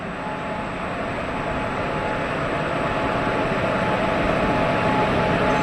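A Shoranur–Coimbatore passenger train with a WAP1 electric locomotive from the Erode loco shed sits at a station, giving off a steady broadband rumble and hum that swells slightly over time, with no voices.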